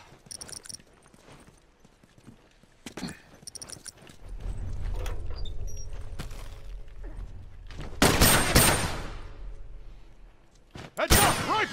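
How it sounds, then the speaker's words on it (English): Video game gunfire in a match against a team of snipers: sharp, loud single rifle cracks burst out near the end, separated by quieter stretches of ambient rumble and low background noise. "Oh, they're all sniping."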